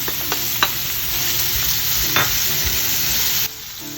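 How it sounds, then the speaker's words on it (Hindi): Boiled sweet corn and capsicum stirred in a hot pan for corn poha, a steady loud sizzle with a few scraping spatula knocks, close and continuous before dropping quieter near the end. "शिमला मिर्च के साथ ही मैं डाल देती हूँ ये कॉर्न, जो स्वीट कॉर्न है, ऑलरेडी बॉइल्ड है"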